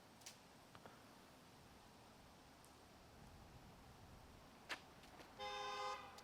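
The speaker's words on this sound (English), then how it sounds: "a huge honk of the horn after he released." At a 2021 Minnesota amateur disc golf championship round, a car horn gives one short, distant honk near the end, faint above a quiet outdoor background with a few small clicks.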